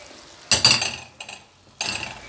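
Chopped onion and garlic tumble into a pan for paella, a bright clatter and sizzle in two bursts with a scrape between, close and alone.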